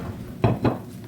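Two quick, soft clinks of a utensil against a dish as fried rice is scooped onto a plate.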